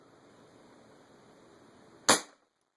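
A single sharp shot from a .25 caliber Marauder air rifle, fired in single-shot mode, rings out near and loud after about two seconds of quiet background hiss, then cuts off abruptly to silence.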